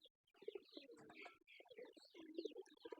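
Soft, low pigeon coos repeat in short rolling phrases, close by, with faint chirps in the background and no talking.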